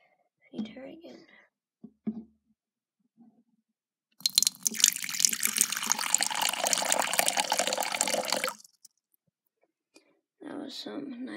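Water poured over a pet tarantula enclosure makes a steady, close splashing run for about four seconds, with soft talk before and after.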